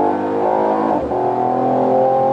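2019 Mercedes E53 AMG 4Matic+ accelerating hard from 100 to 140 km/h, a strong, steadily climbing engine note with a brief dip as it shifts gear, loud and continuous.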